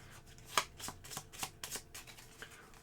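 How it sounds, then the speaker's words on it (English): Quiet riffling and snapping of a deck of cards being shuffled for a deckbuilding board game, several short bursts in quick succession, close by. "And then we're going to shuffle our cards."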